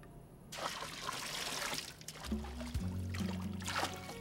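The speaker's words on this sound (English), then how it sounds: "Ready for the rinse cycle?" Water sprays and splashes steadily throughout a cartoon car wash rinse cycle, a rushing wash of liquid with a few tonal hums joining in near the end.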